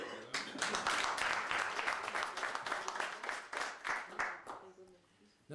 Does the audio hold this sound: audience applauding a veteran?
yes